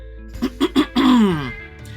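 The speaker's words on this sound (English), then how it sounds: "Phoenix nods his head and makes a theatrical display of clearing his throat." A theatrical throat clearing from the character Phoenix in the game Choices: Hearts on Fire, three short gruff bursts followed by a longer drawn-out, falling rasp, close and alone.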